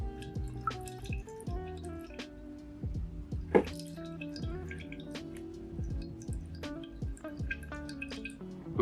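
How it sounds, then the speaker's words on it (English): Water draining and dripping from a freshly soaked plant pot after watering, with a steady close trickle and scattered drips through most of it, plus one brief sharper splash partway. "and just let the water drain fully from the pot."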